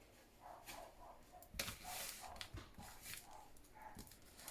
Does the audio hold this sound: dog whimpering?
yes